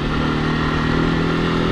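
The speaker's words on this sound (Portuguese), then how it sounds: "A moto começa a levantar a frente." A light motorcycle carrying paint cans runs steadily at close range, its engine a loud continuous drone with no pauses, as the front wheel lifts off the ground.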